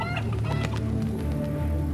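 Chickens cluck and squawk in a busy market scene, several birds close and loud in overlapping calls over a dense background murmur.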